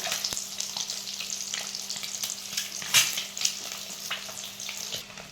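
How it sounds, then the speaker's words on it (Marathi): Eggs fry in a pan for a dhaba-style egg masala, with a loud, steady sizzle and crackle up close, occasional sharp pops and spatula knocks, and no talking. "चांगली फ्राय करून घ्यायचं आपल्याला."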